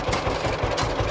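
A John Deere H tractor engine idles steadily with a rhythmic, chugging pulse, a close and continuous mechanical rumble with no voices.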